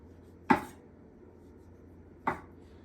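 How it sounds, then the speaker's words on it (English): A knife cuts thin slices off a thick wheel of brie for melting into scrambled eggs, making two soft, close slicing thuds about two seconds apart over a quiet kitchen background. "So we're gonna melt it, just cut it off nice and thin."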